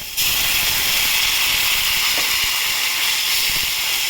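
Water poured into a hot pan of spiced morola fish curry after the masala is fried down, giving a loud, steady hiss and sizzle that starts abruptly and holds evenly throughout.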